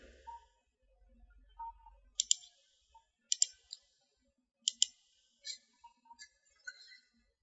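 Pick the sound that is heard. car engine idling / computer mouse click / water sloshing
computer mouse click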